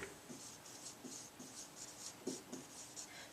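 Someone writes the number 60 by hand, a short series of soft, scratchy pen strokes that come in quick, irregular bursts, faint and close, with no talking.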